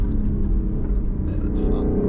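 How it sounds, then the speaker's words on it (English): A 2020 Lexus LC 500 engine rumbles deep and steady through a downshift, loud and close throughout with no talk over it. "Downshifts are insane."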